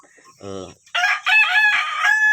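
A free-range village rooster crows loudly and close by in one long, strained call. Just before it, a short cluck-like sound comes from the same flock.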